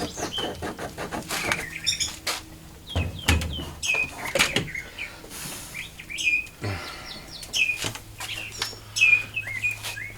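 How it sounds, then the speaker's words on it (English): A bird chirping close by inside a garage, repeated sharp tweets mixed with fluttering wing sounds and some clattering knocks. "You hear that bird must be in here,"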